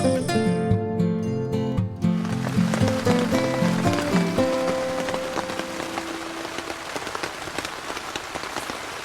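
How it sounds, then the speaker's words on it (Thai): Steady morning rain at a campsite in Khao Soi Dao Wildlife Sanctuary, Thailand, a dense continuous patter on surfaces. Sustained musical tones sound over it at the start, then fade, leaving the rain alone. "ฝนตกมาตั้งแต่ช่วงเช้ามืดแล้วนะ ตอนนี้ก็ยังตกอยู่เรื่อย ๆ เลย"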